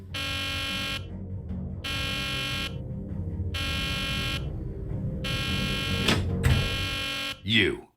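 An electronic fire alarm in a Nancy Drew video game blares in loud, regular pulses of roughly a second each, separated by short gaps, with a brief whooshing effect near the end.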